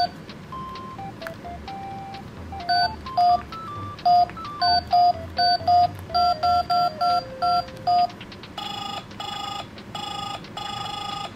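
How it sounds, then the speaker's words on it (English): A Hello Kitty toy playset phone plays a run of bright electronic dialing beeps, a dozen or so evenly spaced tones in quick succession, followed by a brisker pattern of chirping ring tones, clear and close with no talking. "Let's dial Hello Kitty."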